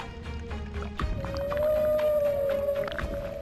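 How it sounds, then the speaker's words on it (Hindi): A female whale swimming with her calf through the open sea gives a long, rising and sustained tonal call that dominates for about two seconds, set over a steady low underwater wash with no talk. "शायद ये मादा व्हेल है जो बच्चे के साथ समुद्र के दूसरे हिस्से में जा रही है।"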